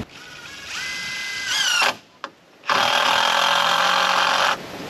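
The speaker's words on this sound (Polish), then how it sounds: "za chwileczkę wkręcę pierwszego wkręta, żeby to zabezpieczyć" Power drill driving a long 16 cm wood screw while finishing a roof canopy: a rising motor whine, a brief stop, then a loud sustained high-pitched drilling run for about two seconds before cutting off.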